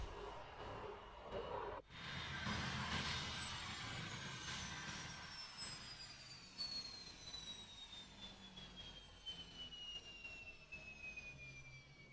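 Jet airplane engines in the Microsoft Flight Simulator game, a steady loud roar with a high whine sweeping downward, sustained and unbroken for the whole stretch, with no voices.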